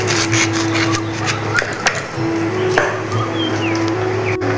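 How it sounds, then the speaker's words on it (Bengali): A knife cuts a mango on a board for a tilapia curry, with a few soft, scattered cutting taps over a steady background hum. "টক ঝাল মিষ্টি তেলাপিয়া কালিয়ার জন্য এখন আমটি কেটে নিচ্ছি আমি"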